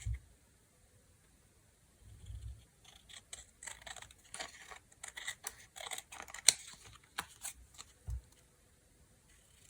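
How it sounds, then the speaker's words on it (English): Scissors trimming excess from recycled packaging, a string of close, crisp snips and paper rustles in quick irregular bursts after a quiet start, with no talking. "let's trim that down. So I just go around. Cut the excess."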